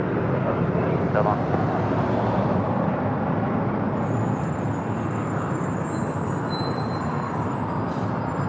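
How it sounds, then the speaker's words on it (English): Dense, continuous rumble of road traffic from cars, motorcycles and buses, engines droning steadily with a faint higher whine overhead. "cars, motorcycles, buses all sound extra loud here this morning"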